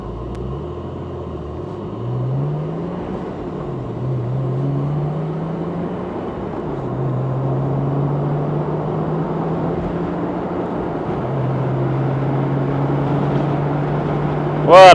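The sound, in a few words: car engine revving while driving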